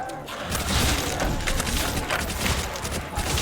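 Thompson submachine gun fire in World at War Zombies on the Night of the Living Dead map, a dense continuous rattle of shots with booming impacts, loud and sustained across the whole stretch.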